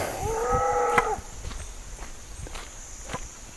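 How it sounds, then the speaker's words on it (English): A cow lows once in a long, steady moo close by, followed by the soft thuds of footsteps on the ground and faint outdoor ambience. "hello, Mr. Cow."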